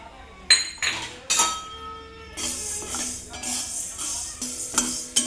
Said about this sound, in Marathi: हिरवे मूग भाजूया।